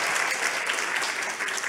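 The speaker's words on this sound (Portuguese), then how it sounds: "Vamos aplaudir aqui o nosso amigo." A conference audience applauds a speaker after a technical talk, steady dense clapping filling the whole stretch without a break.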